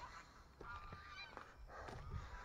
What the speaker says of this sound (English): The ducks are in a bit of a revolt.